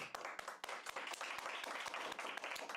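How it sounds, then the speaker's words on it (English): A round of applause in a lacrosse broadcast setting, faint steady clapping from a small crowd with distinct sharp claps throughout. "Let's get a round of applause for Beck."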